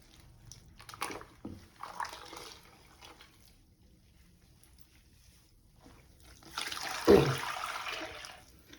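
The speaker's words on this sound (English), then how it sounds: "remove everything that is the shampoos and everything from it with the clean water now" Intermittent splashes of running water rinsing shampoo from a human-hair lace closure wig, then a louder sustained pour of water near the end, close by and without talk.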